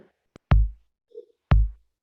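Two deep kick-drum thumps from a beat-making step sequencer, one second apart on beats 1 and 3, each with a booming low tail, with a faint click before the first and a soft murmur between the hits.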